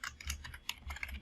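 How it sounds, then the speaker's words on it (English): Rapid, irregular tapping on a computer keyboard, a quick run of close, quiet key clicks with no voices. "I had issues with my keyboard there."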